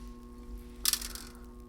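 Polished glass pebbles spill onto a surface to dress up a small seashore scene, a brief crisp clatter lasting under half a second, fairly close and alone.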